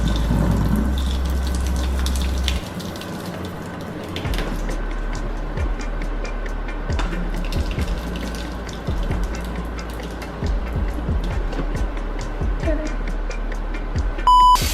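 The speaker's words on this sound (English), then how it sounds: "So now my pasta is ready to be drained." Cooked pasta water being poured out of a pot through its built-in drainer into a kitchen sink, a steady close rush and splash of water that runs almost unbroken, with a brief beep at the very end.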